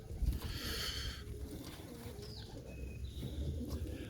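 Young 2020 pigeons in a backyard loft coo softly amid steady background noise, with faint flutters and a few brief higher calls, continuous and moderately distant.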